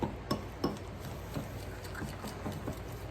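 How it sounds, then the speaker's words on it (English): A utensil stirs a pork chop seasoning mix of mustard, brown sugar, spices and minced onion in a bowl, giving soft, close scraping and light clinks in a steady rhythm with a few sharper taps. "stir it all up real good, because you've got that mustard in there, and you've got that brown sugar in there"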